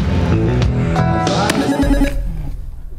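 A brief excerpt of a rock ballad plays as a song-guessing round in a rock music quiz show, with full, steady tones and sustained notes filling the three seconds before easing off.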